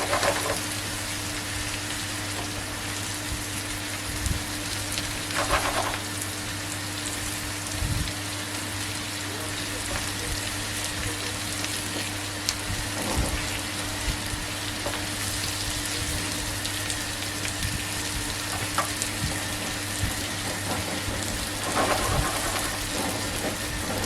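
Steady crackling sizzle of small fish frying in hot oil, continuous and close, with a faint hum and occasional clinks.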